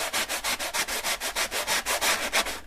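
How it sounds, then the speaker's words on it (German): A sanding sponge rubs over dried filler on a model road surface in quick, even back-and-forth strokes, about a dozen rhythmic scrapes, close and alone. "Das geht mit dem Schleifschwamm eigentlich ganz gut."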